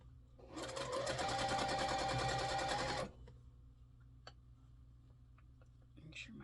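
A sewing machine stitches a quilt block in one steady, loud burst of rapid needle chatter lasting a few seconds, then stops, leaving faint clicks and quiet handling.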